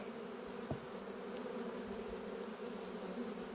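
A dense, steady hum of many honey bees buzzing close by at an open hive, a continuous droning with occasional louder passes of individual insects.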